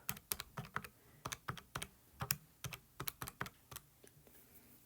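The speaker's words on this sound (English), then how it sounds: "So we're going to type that on our calculator." Numbers keyed into a calculator: a quick, uneven run of about twenty crisp button clicks, close and clear with no voices.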